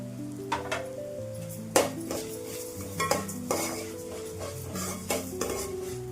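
Cumin and other spices roasting over low heat in a pan for Telangana garlic chilli powder, with a utensil scraping and clinking against the metal in steady irregular strokes, close and alone with no voices.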